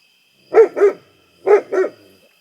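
A dog outside near a cabin's fence line barks at nearby coyotes in two quick double bursts, close and loud, with no talk.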